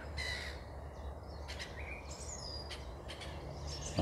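Crows cawing outdoors on a frosty morning, several short harsh calls spaced out across a few seconds over a steady low background rumble, fairly distant.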